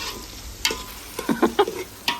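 Mixed vegetables tempered in hot oil are stirred in a pan, with several sharp scraping strokes of a spoon over a soft, continuous sizzle.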